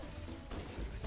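Dense gunfire and explosions from the video game Halo: Combat Evolved in a low-gravity area, a continuous noisy barrage of rapid shots and blasts with no talking.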